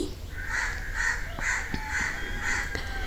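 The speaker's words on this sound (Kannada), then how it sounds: "ಮನೆ ಹತ್ತಿರ ಎಲ್ಲ ಕೋಳಿ ಕಾಗೆ ಎಲ್ಲ ಕೂಗ್ತಾ ಉಂಟು" Crows near a house caw repeatedly in a steady series of harsh calls, about five in three seconds, over a constant background hum.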